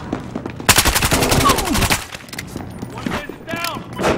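Rapid bursts of automatic gunfire in the video game Battlefield Hardline, loud and close, followed by scattered shots and game effects, with voices speaking faintly in the background.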